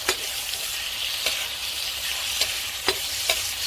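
Shrimp with garlic stir-fry in a pan: a steady sizzle broken by several sharp scraping strokes of the utensil at roughly regular intervals, close and clear with no speech.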